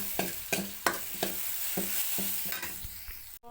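Spices temper in a pan on a stove over a steady sizzle, broken by repeated close scraping strokes of a stirring spoon at an uneven rhythm, with no talking.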